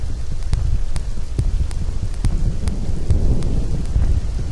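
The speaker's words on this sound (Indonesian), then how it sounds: "Hujan mengguyur tidak deras menemani warga yang lelap tertidur." Light rain falls steadily at night in a village, a dense, close patter with low rumbling beneath and scattered sharp drips breaking through. It stays loud and even throughout, with no voices.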